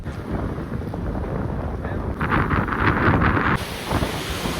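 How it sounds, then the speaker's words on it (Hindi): A flooded river in full spate rushes loudly as a broad, steady roar, with gusty wind buffeting the microphone and surges of spray noise partway through. "पानी का बहुत ज़्यादा शोर है और बहुत ज़्यादा बहाव तेज़ है पानी का"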